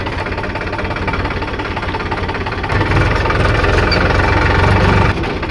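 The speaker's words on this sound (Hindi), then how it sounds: "अब यहाँ से उतारेंगे नीचे ट्रैक्टर खेत में।" A tractor engine rumbles loudly close by as it drives down from the road into a farm field, a steady low throbbing drone that grows heavier about halfway through.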